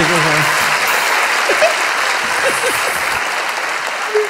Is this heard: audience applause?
yes